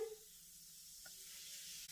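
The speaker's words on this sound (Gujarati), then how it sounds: "એક તડકા પેનની અંદર એક ચમચી જેટલું તેલ ગરમ કરીશું અને એમાં અડધી ચમચી જેટલું જીરું ઉમેરીશું" Cumin seeds and red chili powder sizzle in a spoonful of hot oil in a small tadka pan, a soft, steady hiss that stays faint and even throughout, with no talking.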